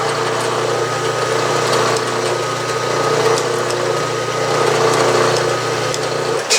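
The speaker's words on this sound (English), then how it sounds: "I'm going to speed the machine up and drill that to depth and then move to the next one." A drilling machine bores holes in metal parts for a vertical steam engine build, its motor running with a steady, even whine at close range, unbroken and without speech.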